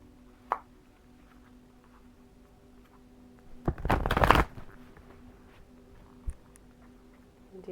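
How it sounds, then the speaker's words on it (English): Tarot cards being shuffled, a single close riffle of about one second rising out of a quiet room, with a couple of faint taps before and after. "Do one more shuffle."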